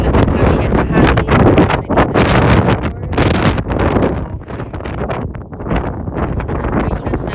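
Strong gusting wind buffets the microphone while walking outdoors on the way toward Nordkapp, Norway, loud roaring bursts rising and falling in waves throughout.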